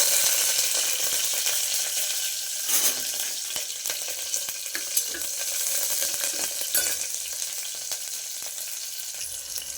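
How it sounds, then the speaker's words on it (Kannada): Green chilies frying in hot oil give a bright, continuous crackling sizzle with occasional stirring scrapes; close and steady, with no voices. "ಎಣ್ಣೆ ಕಾದಿದೆ, ಮೆಣಸಿನ್ಕಾಯಿ ಹಾಕೋಣ."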